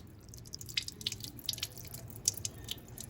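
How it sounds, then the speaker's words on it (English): An egg is rinsed in a little water, with soft irregular drips and small splashes scattered over a quiet background for a few seconds. "I'm going to rinse it off in a little water."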